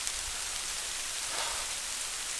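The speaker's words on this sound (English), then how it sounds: "It started to rain a little bit more." Rain falls steadily outdoors during a mountain bike ride, a dense even hiss with occasional low thumps, loud and continuous with no voices.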